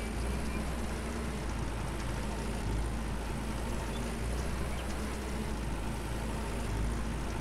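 A big modern tractor running in the farming game Farmer's Dynasty: a steady, low engine drone that holds even through the whole stretch, with faint talk over it.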